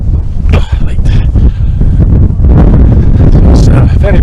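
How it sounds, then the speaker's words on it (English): Strong wind sweeps across East Lomond Hill (Falkland Hill) in Scotland, buffeting the microphone with loud, continuous roaring gusts close up throughout. "It's very, very windy, quite chilly as well."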